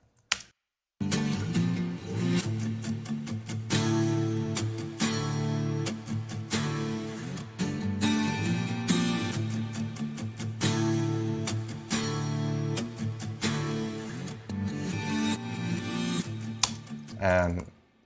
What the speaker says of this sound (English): I'm going to start with the acoustic guitars.